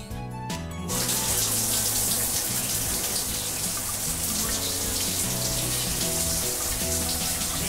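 Steady broadband rush of shower water running in a bathroom, loud and continuous after a brief quieter start, with no talk over it.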